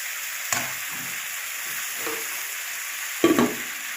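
Chicken pieces sizzling in a pan with a squeeze of lime juice, a continuous hiss of frying broken by a few knocks and scrapes of stirring, near and fairly loud.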